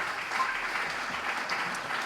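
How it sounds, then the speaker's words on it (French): Steady, dense applause from a conference audience at a French talk on generative AI, a continuous wash of many hands clapping at once with no distinct individual claps, moderately loud throughout. "Bravo, on peut applaudir les deux Thomas"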